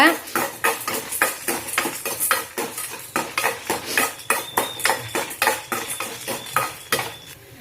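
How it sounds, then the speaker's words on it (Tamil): Chana dal, urad dal and dried red chillies fry in oil in a pan for tomato chutney, a utensil scraping and stirring in a quick, steady rhythm of close, clattering strokes over a faint sizzle. "இதை நல்லா கலர் வர்ற வரைக்கும் வறுத்துக்கோங்க."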